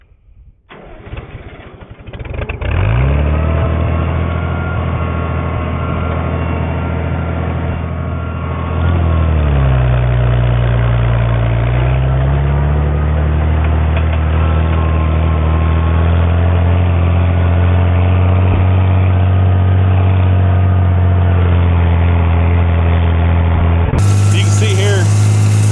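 A tractor pulling a hay rake through a field: the engine starts, then runs with a steady, loud low drone that shifts pitch briefly before settling into a constant working hum.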